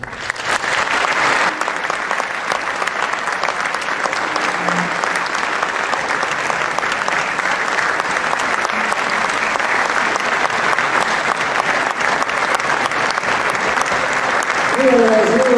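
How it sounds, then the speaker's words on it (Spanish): Sustained audience applause fills a lecture hall as Salvador Borrego Escalante is welcomed, loud and steady throughout with a faint voice near the end. "con un fuerte aplauso a don Salvador Escalante Borrego"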